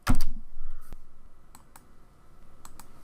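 Keys on a computer keyboard are pressed to enter a drafting command in AutoCAD: one sharp, loud keystroke at the start, then a few sparse, lighter clicks spaced out across the quiet that follows.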